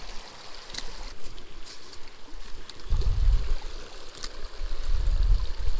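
A small, crystal clear trout stream flows and trickles nearby, with soft low water surges and occasional splashes, no voices.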